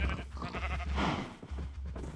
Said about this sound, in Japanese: 羊まで来ちゃうからね。